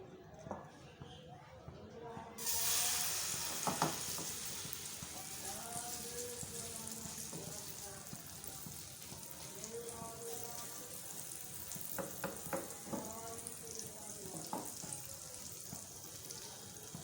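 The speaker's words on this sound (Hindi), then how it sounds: "बैटर डालना शुरू करें।" Besan chilla batter is poured into a hot oiled pan and starts a soft, steady sizzle that carries on throughout, with someone talking over it.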